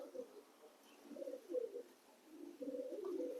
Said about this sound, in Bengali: দেখুন এখানে একসঙ্গে সব পায়রা আছে, পায়রা রাখা আছে